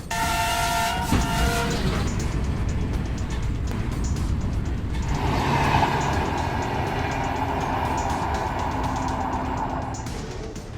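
A train rolls through wilderness, a loud steady rumble of wheels on rails with a sounding horn tone at the start and a shifting mechanical whine later, heard up close without speech.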